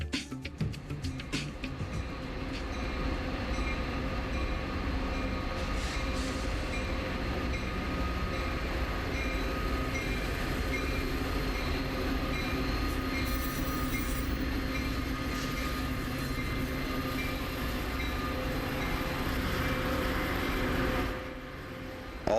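Metra commuter train on the Rock Island line in Chicago, a steady close rumble of wheels and cars rolling past, dropping off slightly near the end.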